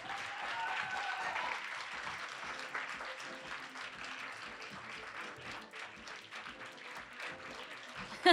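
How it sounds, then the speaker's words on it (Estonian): Applause from an audience at a literary award ceremony as the nominees are called to the stage, a dense, steady clapping that carries on through the whole stretch with murmurs in the background. "me palume lavale suure aplausi saatel nominendid"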